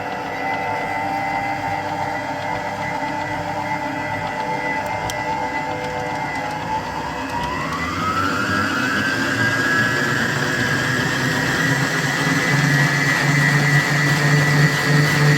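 An electric mixer whirs steadily as it blends vanilla extract into cream for a homemade Christmas yule log sponge, its motor pitch stepping up midway and then holding a higher, louder drone until the end.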